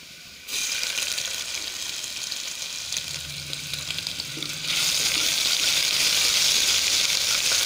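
Onions with crushed ginger and garlic sauté in a pan for beef gravy, a steady close sizzle that grows louder and brighter partway through, with faint stirring and no talk.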